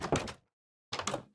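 A wooden door in the Minecraft video game sounds twice, two short close thumping bursts separated by a brief silence, loud and with no talk.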